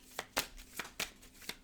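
Tarot cards shuffled by hand in quick riffling bursts, about five crisp flicks spaced across a short stretch, fairly close and quiet with no talk.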